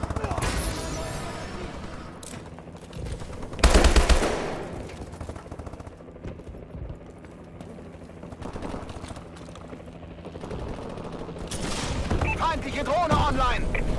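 Bursts of rapid machine-gun fire ring out in a Call of Duty: Advanced Warfare team deathmatch, with one loud burst standing out. Game voices speak over the scattered gunfire and effects.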